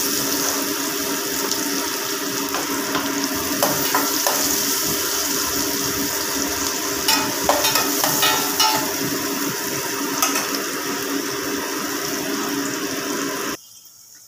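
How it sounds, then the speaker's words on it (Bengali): Sliced onion sizzles in hot oil in a pan, a steady loud hiss and crackle lasting many seconds without pause, cutting off abruptly near the end; no voices. "এই তেলেই আমি অল্প একটুখানি পেঁয়াজ দিয়ে দেবো"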